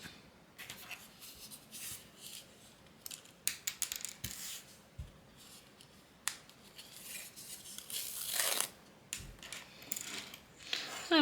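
Scissors cutting ribbon for a dollar store rainbow wall art craft, a string of quiet crisp snips and rustles, close and faint, with no talking.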